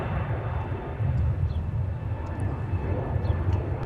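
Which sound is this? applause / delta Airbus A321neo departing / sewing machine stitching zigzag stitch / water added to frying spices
delta Airbus A321neo departing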